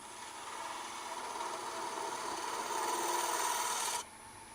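A wood-turning gouge cuts a cove on a spinning lathe workpiece for an icicle ornament, a steady rising scraping hiss that swells over several seconds and then stops abruptly.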